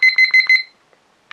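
A Hoinya digital kitchen timer alarm beeping at zero: four quick bursts of shrill, high-pitched beeps close up, then near silence and a faint click at the end.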